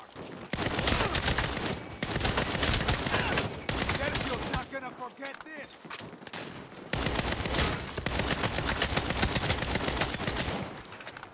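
Gunfire fills the action game Saints Row in long dense bursts of rapid automatic shots, loud and continuous, broken by a brief lull in the middle.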